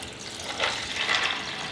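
Water poured into a Pasta N More plastic pasta cooker filled with a cup of dry pasta, a close splashing trickle that swells and continues for over a second.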